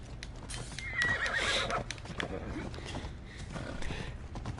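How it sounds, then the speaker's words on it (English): A horse in the Assassin's Creed Odyssey video game whinnies loudly and shakily up close, with clip-clopping hooves running underneath and continuing after the neigh. "Let me get my horse back."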